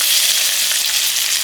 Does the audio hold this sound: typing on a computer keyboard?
no